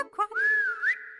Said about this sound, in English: some noisy, white-faced whistling ducks.